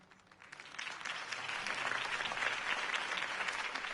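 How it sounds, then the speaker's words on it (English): In a Batman video game, a crowd applauds, a dense clapping that builds from quiet to a steady, full roar and holds there. "If only Mr. Wayne, my campaign's largest backer, could have heard that applause"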